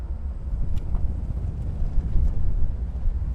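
A 1966 Buick Riviera with dual four-barrel carburetors and an automatic transmission cruises quietly, giving a low, steady road and engine hum with faint wind noise throughout and no talking.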